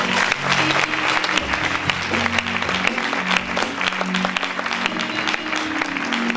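A church congregation applauding during a worship service, dense continuous clapping from many hands filling the room, with some voices and a low hum of talk mixed underneath.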